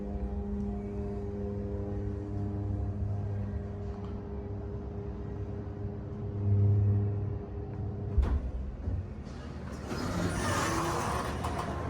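The motor of a hydraulic scenic elevator at Fair Oaks Mall in Fairfax runs with a steady low hum, then a clunk and a rising mechanical rush as the cab starts moving, with no talking.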